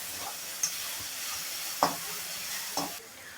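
Steady sizzling of green chili thecha paste frying in hot oil tempering, with a few sharp stirring scrapes and clicks at intervals.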